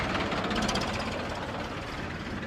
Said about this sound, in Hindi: ट्रैक्टर निकल जाए फिर बात करते हैं।